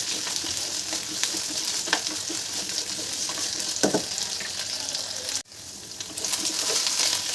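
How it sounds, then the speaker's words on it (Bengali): Potatoes fry in oil in a pan at home, giving a constant hissing sizzle with faint scraping stirs and a brief dip partway through, while birds coo softly in the background. "আলুটা আমি একটু ভালোভাবে ভাজবো"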